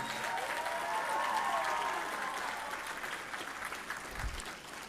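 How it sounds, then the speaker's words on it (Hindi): An audience at a student parliament event in Ahmedabad claps to welcome Kiran Bedi, a dense, steady wash of applause that holds strong for several seconds, then thins slightly toward the end. "जरा तालियां बजाकर किरण बेदी जी का भी स्वागत करें।"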